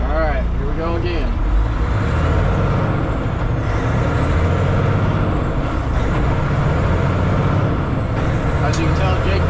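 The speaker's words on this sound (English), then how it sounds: "As you can tell, Jake brake's still on because I hit it a little bit." A truck's Jake brake (engine brake) running as a loud, steady, low mechanical drone with continuous rumbling and a brief rising whine near the start, close up and without pauses.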